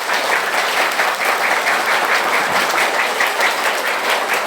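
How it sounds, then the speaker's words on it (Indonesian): Audience applause at a school Isra' Mi'raj commemoration, dense, loud and steady, with many hands clapping together and no break for the whole stretch. "Tepuk tangan semuanya."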